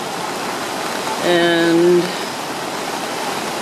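Minnehaha Falls in flood, with a steady broadband roar of heavy rushing water filling the clip throughout, while a brief harmonic tone, likely a voice, rises over it midway.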